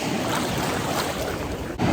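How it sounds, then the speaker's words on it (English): Waves slap and wash steadily against a small boat at sea, a dense continuous rush mixed with wind buffeting the microphone, close and fairly loud with no talking. "Trying to avoid waves."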